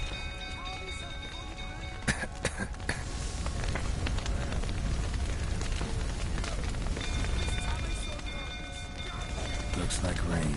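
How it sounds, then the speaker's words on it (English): Steady rain hisses in The Witcher 3: Wild Hunt as a stable burns, a dense broadband wash with scattered sharp clicks and thumps of clattering hooves or debris, fairly loud and continuous throughout. "Looks like rain."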